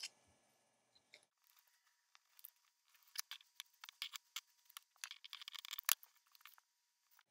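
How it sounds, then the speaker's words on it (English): Scissors cut through folded fabric for an owl pillow, trimming a half-inch seam allowance: quiet, close snips and crunches in irregular bursts with pauses between, no talking. "I'm going to pin it, cut out half inch seam allowance"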